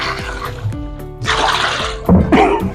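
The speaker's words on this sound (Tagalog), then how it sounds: "Lagyan tayong konting tubig." A little water poured and dripping onto a computer keyboard being washed, with splashy, irregular trickling that swells louder toward the end over a steady background hum.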